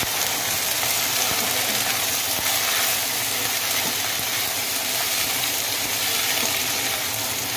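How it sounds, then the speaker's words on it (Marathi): Capsicum fries with onion in a pan, giving a loud, continuous, even sizzle that runs throughout with no talking. "त्याच्यामध्ये आपण शिमला मिर्च टाकून घेऊया"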